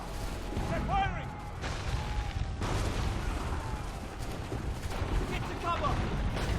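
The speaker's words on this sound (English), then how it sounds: "They're firing!" Enemy soldiers fire at the player in Assassin's Creed 3, a dense volley of musket shots and booms rolling under battle noise and shouting voices through the whole stretch.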